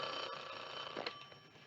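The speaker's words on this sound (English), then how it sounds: "Nobody can pick up a phone around here?" A telephone rings in a quiet office, a faint electronic trill heard in the background.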